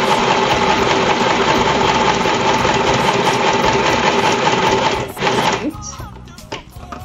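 A domestic sewing machine runs fast and steadily, its rapid mechanical chatter stitching continuously at close range before slowing and stopping near the end, with a few soft handling clicks after.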